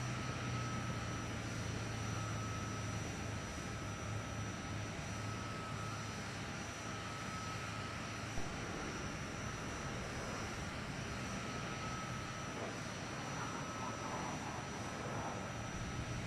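A military plane in the Arma Warlords video game lands on a runway with a steady loud engine roar and drone held across the whole stretch, near and continuous, with no voices.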